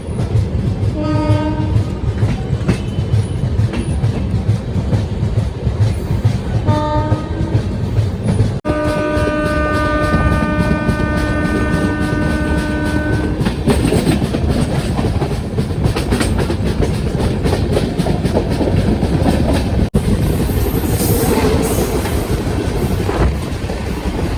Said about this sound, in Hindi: एक्सप्रेस निकल रही है मुजफ्फरपुर से।